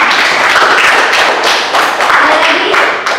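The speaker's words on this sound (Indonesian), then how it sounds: "tepuk tangan dulu untuk Adinda" Children in a classroom clap for a classmate, a loud, dense burst of applause lasting a few seconds with a few voices mixed in.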